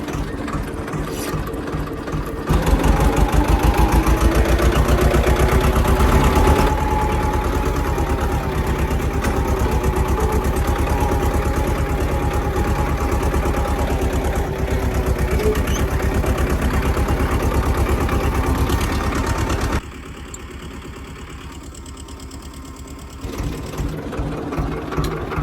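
A tractor engine chugs loudly and steadily while ploughing a field beside a maize crop, a dense rhythmic drone that drops quieter for a few seconds near the end, with no talk.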